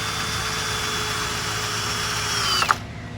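Power drill driving 3-inch deck screws while building a backyard pergola, a steady whirring run that rises in pitch and ends in a sharp burst as the screw seats.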